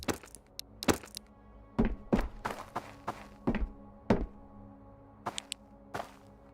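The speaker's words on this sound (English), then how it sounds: "Remove the mag, unload the ammo." Sharp mechanical clicks and thunks come from a magazine being removed and ammo unloaded in the video game Road to Vostok, arriving as a series of separate, fairly close taps in an irregular rhythm.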